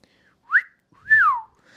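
A man gives a two-note wolf whistle at a passing girl: a short rising note, then a longer rising-and-falling note, loud and close with nothing else around it.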